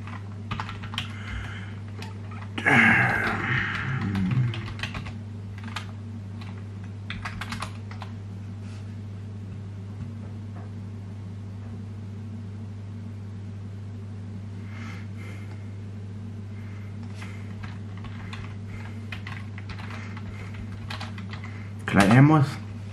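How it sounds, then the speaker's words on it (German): Computer keyboard typing at a home desk setup, faint scattered key clicks over a steady low hum, with two brief louder bursts of activity. "Die Tastatur holen, ne? Man kennt sie."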